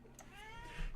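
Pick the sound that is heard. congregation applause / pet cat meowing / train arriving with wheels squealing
pet cat meowing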